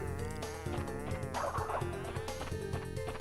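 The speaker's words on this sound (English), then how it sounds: "Just try to be fast enough to not spawn 2 honeybees." Honeybee enemy buzzing in Crash Bandicoot 2 on PS1, a thin, wavering insect drone that runs without pause under busy game music and effects.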